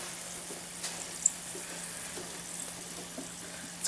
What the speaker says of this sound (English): To fry this till it gets brown.